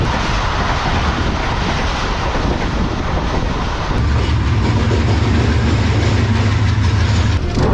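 Pakistan Express train running in parallel with another train, a loud continuous rush of rail and wind noise with faint clickety-clack, deepening into a heavier rumble partway through, recorded close by from aboard.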